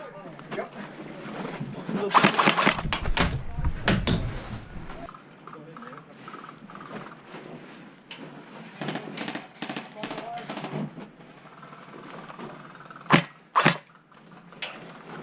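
Airsoft guns fire during a close-quarters indoor game, with sharp snapping shots in short bursts and scattered single cracks, some near and loud, under excited voices and movement.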